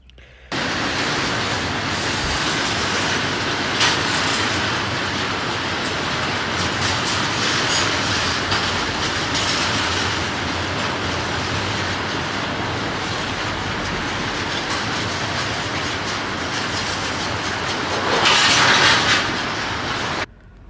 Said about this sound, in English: Coupler slamming.